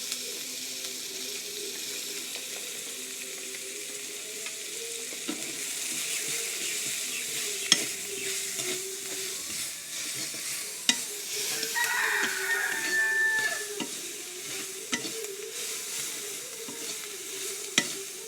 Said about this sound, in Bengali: দেখেন পেঁয়াজ কুচি দিলাম, ওই তেলের ভিতরে দিলাম